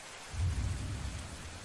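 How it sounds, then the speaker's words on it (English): A heavy video game storm with rain and low rolling thunder, a dense steady wash with a deep rumble swelling near the start, no voices. "the rain seems to be getting stronger every second"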